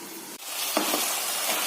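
Chicken curry sizzles hard in a pan as it is stirred, a loud continuous frying hiss broken by a brief dip and a couple of soft scrapes of the spoon.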